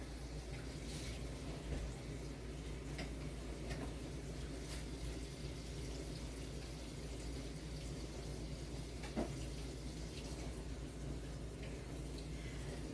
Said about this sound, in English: I'm going to make hot water here